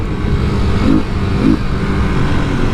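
A Kawasaki KLX250 motorcycle engine while riding, a loud steady drone from close by with two brief rises in pitch and power, wind rush over it, no talking.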